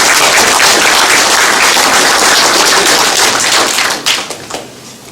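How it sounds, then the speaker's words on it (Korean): Audience applause at a Korean international music film festival evaluation meeting, a dense loud burst of many hands clapping that holds steady before tapering off into scattered claps near the end. "여기 크게 좀 박수 좀 해주시기 바랍니다."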